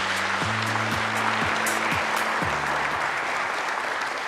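A crowd applauds continuously at a government policy briefing as a presenter is introduced. A short stepped musical fanfare plays in the low range beneath the clapping during the first three seconds.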